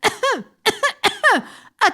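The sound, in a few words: storyteller imitating Snow White coughing after eating the apple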